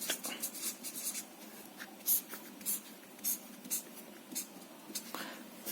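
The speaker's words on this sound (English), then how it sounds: "I'll write it here." Writing on a board during a lecture, a series of soft scratchy strokes and taps at an uneven pace, close but quiet against a faint room background, with no talk.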